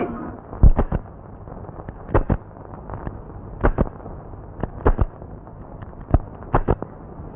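Firecrackers burst in irregular, sharp pops, some single and some in quick pairs, scattered across several seconds at moderate loudness against a steady background hiss.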